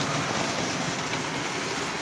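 Model train rolling along repaired layout track, a steady close rushing rumble with faint wheel clatter, continuous and loud with no talk.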